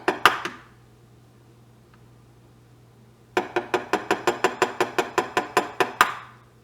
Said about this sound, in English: So we'll crack the 2 eggs.